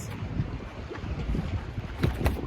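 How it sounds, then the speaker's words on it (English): Steady wind rumbles and buffets the microphone throughout, with low gusty noise and a few stronger bursts near the end. "It's a bit windy here."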